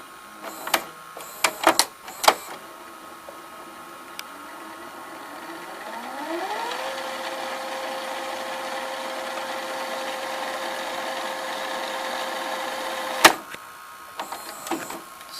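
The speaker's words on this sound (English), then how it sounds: "Let's rewind." A Symphonic SL2940 VCR rewinds a tape: clicks and clunks of the mechanism first, then a steady motor whir that rises in pitch and holds as a loud continuous hum, ending in a sharp stop click and further clunks.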